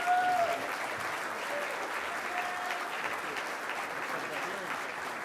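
An audience at a Penn State alumni fellows award ceremony claps in steady, sustained applause that stays even and fairly loud for several seconds, with faint voices mixed in.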